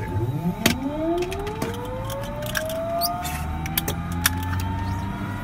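A PC-12NG turboprop engine starting, with a high whine that rises steadily in pitch over several seconds while clicks and other cockpit sounds occur around it, heard from inside and moderately loud.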